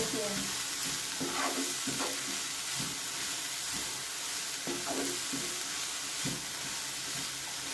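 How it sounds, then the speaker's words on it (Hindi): Vegetables for momo filling stir-fried with spices in a pan, a steady low sizzle broken by repeated spatula scrapes and stirring clacks at irregular intervals. "और अब यहाँ पे सब्जियों को हम कुक कर लेंगे"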